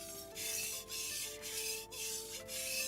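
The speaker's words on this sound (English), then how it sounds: "I'm simply sharpening my knives" Kitchen knives drawn across a whetstone in repeated strokes, a steady gritty rasp with brief pauses between passes, close and fairly quiet.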